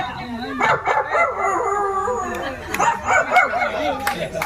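A person mimics a puppy, giving high yips and whimpering whines amid crowd noise and other voices, several short cries over four seconds.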